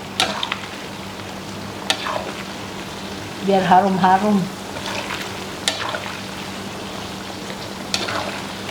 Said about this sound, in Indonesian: Kita goreng sampai kekuningan.